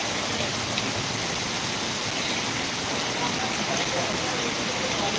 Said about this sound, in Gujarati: જ્યાં ધોધમાર વરસાદ ખાબકી રહ્યો છે